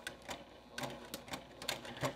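A sewing machine stitches across a fabric zipper pouch in short bursts of quick, clicking needle strokes with brief pauses, fairly quiet and close.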